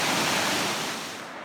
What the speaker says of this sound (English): Water just flows on this big rock shelf here.